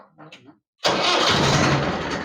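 A Swaraj 841 XM tractor engine cranks and catches abruptly, then runs loud and steady at close range; a faint voice murmurs in the quiet moment just before it fires.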